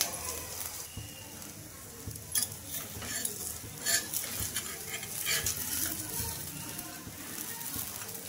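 A gram flour and rice flour pancake fries in oil on a pan, a soft continuous sizzle broken by scraping and clinking of a spatula turning and pressing it.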